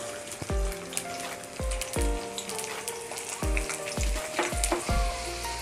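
Chopped onion sizzles loudly in hot oil for a Maharashtrian bombil potato curry, a steady crackling fry broken by five or six sharp knocks of a spoon against the pan.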